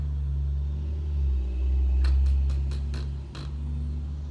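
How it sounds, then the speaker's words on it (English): Garbage truck rolling past with a deep, swelling engine rumble that builds and fades, punctuated midway by a quick series of sharp metallic ticks and clanks. "here comes the garbage truck"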